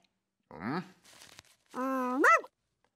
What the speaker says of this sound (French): Mon cher Gaspard, je pense que nous avons 2 chiens dans l'immeuble aujourd'hui.